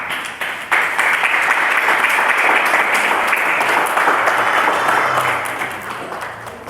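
A church congregation applauding loudly and continuously, dense clapping from many hands that swells in quickly and holds steady before easing slightly at the end.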